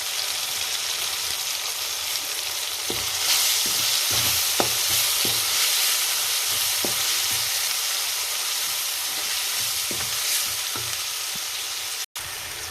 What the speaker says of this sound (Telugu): తర్వాత గరం మసాలా వేసుకొని బాగా కలుపుకోవాలి.